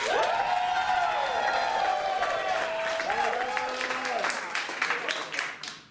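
An audience at a stage show cheers and claps for a contestant, with sustained voices and whoops over steady clapping, fairly loud, then thinning into scattered claps toward the end.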